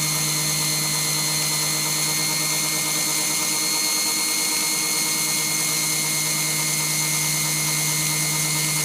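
Power tool grinding and smoothing the valves of a 1972 VW Beetle 1200 engine, giving a continuous, loud, high-pitched whine that holds steady throughout with no pauses.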